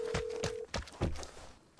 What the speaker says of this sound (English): I will ring the phone.